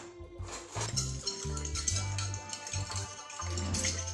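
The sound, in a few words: stirring curry and paprika marinade in a bowl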